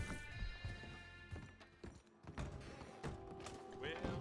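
Horse hooves clip-clop quietly in Red Dead Online, with irregular thuds and steps mixed among other soft game sounds.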